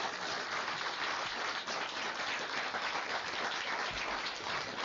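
An audience applauds steadily to welcome poet Paul Muldoon to his valedictory reading, dense sustained clapping filling the room without a break.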